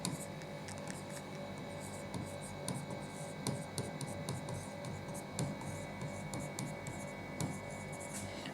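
A pen scratches across a paper application form, filled in with capital letters, producing quiet, close, irregular strokes and small taps throughout with no voices.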